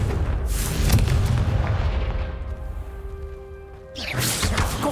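A Confringo fire spell from Hogwarts Legacy bursts in a loud, booming blast with a crashing roar that fades away. A second burst hits at the end, and there is no talking.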